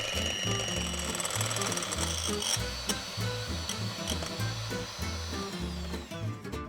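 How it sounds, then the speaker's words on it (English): An electric mixer whips egg whites for a gluten-free Neapolitan Torta Caprese, a continuous close, loud mechanical whirring and rattling that holds steady throughout with no talk. "now that we have our butter ready, we can start by whipping the eggs white."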